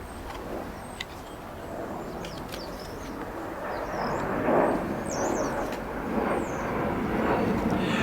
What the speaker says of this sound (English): Please excuse the jet airliner flying overhead.